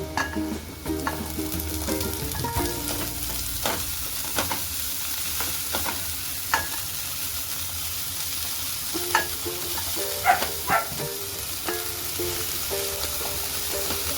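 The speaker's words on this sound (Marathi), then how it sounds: "तर मी भाजी टाकून घेते कांद्याला" Shepu dill greens are stirred into onions frying in a pan, a steady close sizzle broken by repeated scraping clinks of a spoon against the pan.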